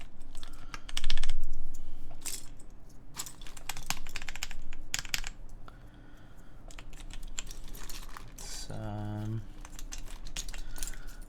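Quick, crisp keystrokes on a CannonKeys Photon mechanical keyboard with a polycarbonate build and no foam, typed at a steady pace throughout with a faint voice now and then.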